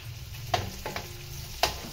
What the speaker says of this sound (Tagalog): binigisa na natin itong bawang sibuyas